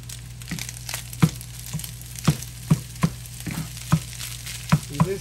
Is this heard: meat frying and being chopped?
yes